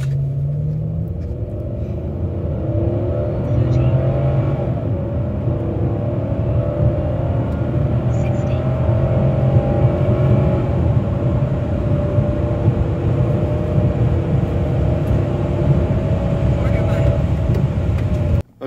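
A Chrysler 300C with the 5.7L HEMI V8 running on E85 fuel accelerates hard in a timed 0–60 and quarter-mile run, a loud sustained engine roar heard from inside the car that builds and holds for nearly the whole stretch.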